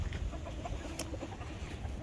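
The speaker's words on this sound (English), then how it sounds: "my little 10-year-old chicken" A ten-year-old red hen clucks softly at a homestead, with short rhythmic clucks that repeat close by over a low background hum and no talk.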